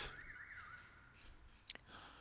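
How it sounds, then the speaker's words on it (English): An electronic alarm wails with a warbling, siren-like tone, faint and steady, then cuts off with a short sharp click or clatter. "And the alarm goes off."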